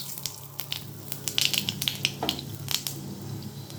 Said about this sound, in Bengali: আমি ওই মাছ ভাজা তেলেই ফোড়ন দিয়ে দেবো কালো জিরে,